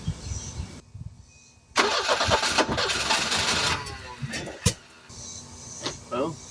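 A Volvo 240 DL engine with a misfire and a disconnected spark plug cranks, catches and runs roughly for a few seconds, loud and close, after a short quiet stretch. A brief clack follows, then it settles with faint sounds around.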